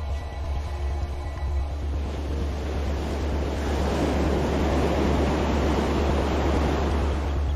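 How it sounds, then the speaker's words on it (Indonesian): Ocean surf rumbles steadily, then a wave swells and crashes into a loud, broad wash of foaming water; wind buffets the microphone. "Pada debur ombak yang ke-9,"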